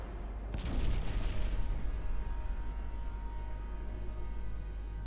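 Warship naval guns fire high-explosive shells in Ultimate Admiral Dreadnoughts, one sharp heavy report followed by a long low rumbling decay over a constant deep engine drone.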